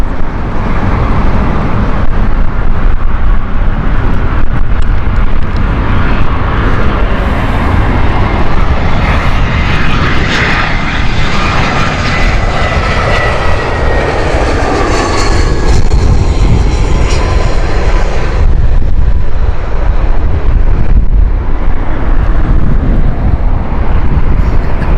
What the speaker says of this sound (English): This is the Airbus A319 of British Airways.